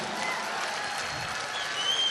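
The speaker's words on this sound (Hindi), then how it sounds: "एक बार तालियां वहीं तक पहुंचे जहां पहुंचाना चाहती हूं मैं।" An audience claps at a mushaira in Aurangabad, giving dense, steady applause from a large crowd throughout.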